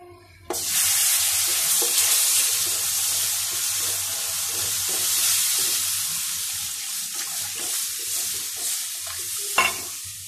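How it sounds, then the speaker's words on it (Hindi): Milk poured onto fried flour for a white sauce hisses with a loud sudden sizzle, then keeps bubbling steadily while a utensil stirs and scrapes the pan with soft repeated knocks. "इसे अब हम इसकी मदद से अच्छे से मिक्स कर लेंगे इसकी सारी गुटलियाँ ख़त्म हो जाएंगी"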